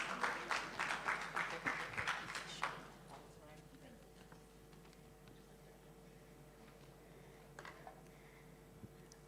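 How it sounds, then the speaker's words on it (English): Audience applause at a women's economic empowerment forum in Kenya, a burst of clapping for about three seconds, then fading into a quiet room hum with faint scattered sounds. "Let's give her a round of applause."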